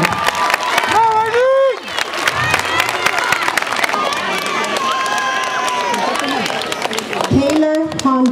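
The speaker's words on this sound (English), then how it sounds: "let's give them a big round of applause" Loud crowd noise at an intermediate school award ceremony, with clapping, cheering and children's shouts blending into a dense, close roar, while high excited voices rise above it throughout.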